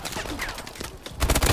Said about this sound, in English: there's a man shooting me to death